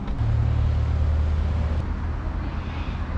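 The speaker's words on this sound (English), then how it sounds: "the highway, the main road is always noisy. Very noisy here, especially with the trucks" Steady low roar of highway traffic with heavy trucks passing in the Greater Blue Mountains area, a loud continuous rumble with a deep engine drone early on and no talk.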